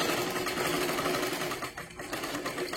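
A sewing machine stitches steadily through blouse fabric while sewing tucks, a continuous close, loud mechanical whirr that dips briefly near the end before running on.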